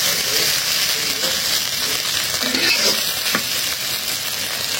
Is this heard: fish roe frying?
yes